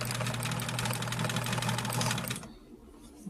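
Sewing machine stitching two quilt block pieces together, a steady close mechanical hum running for over two seconds before stopping abruptly, leaving near silence.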